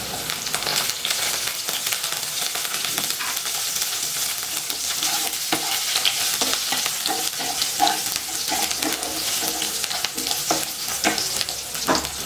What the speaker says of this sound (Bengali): জিরেটা একটু নেড়ে নিচ্ছি। দুটো কাঁচা লঙ্কা কুচি দিয়ে দিচ্ছি।